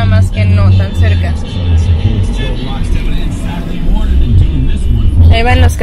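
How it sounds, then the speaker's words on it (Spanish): Shuttle buses to the Disney parks roll past a budget hotel at Walt Disney World, a steady close engine rumble with passing swells, heard under continuous talking. "Ahí van los camiones"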